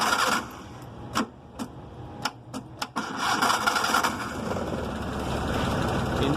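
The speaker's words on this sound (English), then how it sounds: "Before pouring, I will start the engine of my car." A Suzuki car engine starting, with a few sharp clicks and knocks before the motor catches, then settling into a steady, fairly loud idle rumble.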